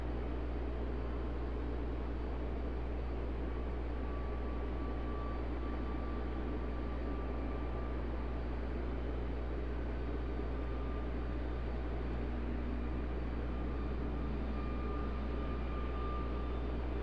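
An airplane takes off from runway 5 left at Raleigh-Durham (RDU) airport, a steady broad distant roar of jet engines that holds evenly throughout with no voices.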